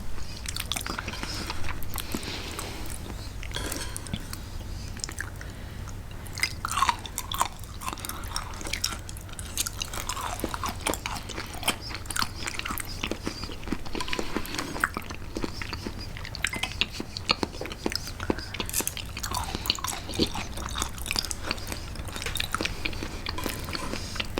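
Raw fresh liver being chewed up close, soft wet mastication and squishing bites repeating steadily for a long stretch, quiet and without talk.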